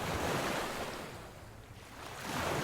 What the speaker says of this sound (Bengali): উত্তাল বাতাসে বড় বড় ঢেউ উঠে